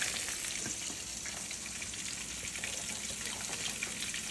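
Vegetables sizzle and fry in a hot pan, a steady dense crackle with no talk over it throughout.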